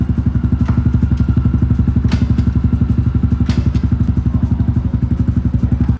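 A motorcycle fitted with a Yoshimura aftermarket exhaust idles close by, a loud, steady, rapid thumping pulse with a deep throaty tone and occasional sharp crackles, with no voices.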